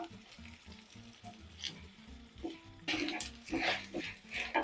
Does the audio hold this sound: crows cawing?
no